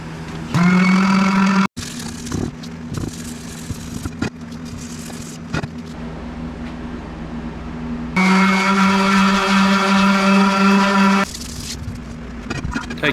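A motorized buffing wheel primed with compound whirs against an aluminum wheel being polished, a loud steady tonal drone that surges louder in bursts, punctuated by scraping contacts.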